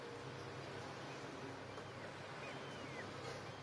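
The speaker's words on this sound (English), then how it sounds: "I've got some seagulls there and some wave sounds" Ocean waves wash in a steady, soft, broadband rush with a faint breezy quality, quiet and continuous throughout.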